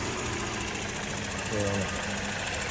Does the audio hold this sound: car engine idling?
yes